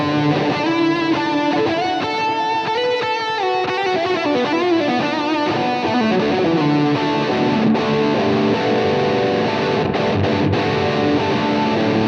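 Electric guitar running through a UAFX Lion pedal with its mythical overdrive engaged, a continuous driven riff with gritty, saturated sustain and quick note runs, loud and close with no voices.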